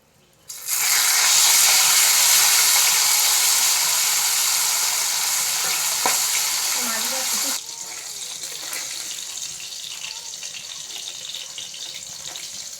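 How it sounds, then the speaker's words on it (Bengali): Fish drops into hot oil and fries in a pan, a sudden loud hiss that surges at once, holds steady, then settles to a quieter continuous sizzle. "প্রথমে মাছ ভাজবো।"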